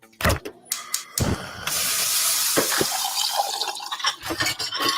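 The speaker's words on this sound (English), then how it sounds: "Those are the sounds of a new kitchen package of state-of-the-art appliances" New state-of-the-art kitchen appliances at work: a few sharp clicks and clunks, then water starts running steadily and fills the rest, fairly close and with no talk.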